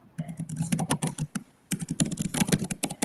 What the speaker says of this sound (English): Oh, we can hear you typing. Who's typing?